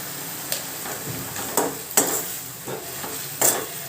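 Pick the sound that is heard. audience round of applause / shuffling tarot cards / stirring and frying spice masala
stirring and frying spice masala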